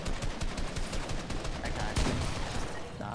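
Rapid bursts of gunfire in the Fortnite video game, a steady run of crackling shots through the clip with a heavier blast about two seconds in, moderately loud.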